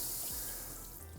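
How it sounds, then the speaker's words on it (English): A kitchen tap left barely open trickles and drips into a sink, a steady close hiss of water with soft patters underneath. "I leave the water running a little bit, so where it's just dripping like this"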